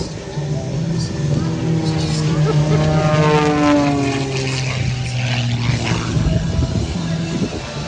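A 355-horsepower MXS aerobatic propeller plane roars through a hard routine at the Westmoreland Airshow at Arnold Palmer Airport, its engine droning loudly with shifting pitch while an announcer talks over it.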